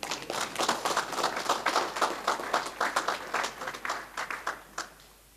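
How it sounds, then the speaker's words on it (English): An audience claps at the launch event for an engineering iron and steel strategy: a brisk patter of many hands that swells and then thins into scattered claps before fading out, with no talk over it. "I thought you'd clap hands on that."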